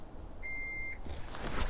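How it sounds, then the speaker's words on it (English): A single steady electronic confirmation beep from a 2022 Chevrolet Tahoe Premier's tail lamps, lasting about half a second, fairly loud and close, followed by faint mechanical clicks and rustling. "I hold it down for several seconds until the tail lamps flash and beep"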